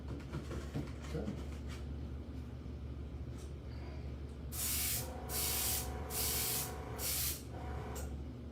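Paint sprays onto an RC car body in five or so short hissing bursts, fairly close and rhythmic, after a stretch of quiet room tone.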